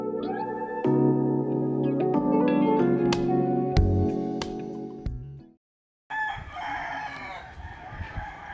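Roosters crow on Malapascua island, several long drawn-out calls overlapping at moderate distance, then a short silence before a busier, noisier stretch of outdoor ambience.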